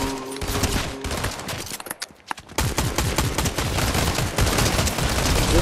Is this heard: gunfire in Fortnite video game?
yes